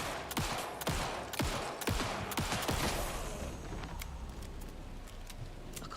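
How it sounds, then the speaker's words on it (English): Gunfire in the video game Alan Wake 2: rapid bursts of sharp shots crowd the first few seconds, then fewer, more scattered reports over a steady rumbling background, with no talking. "So I can shoot him now?"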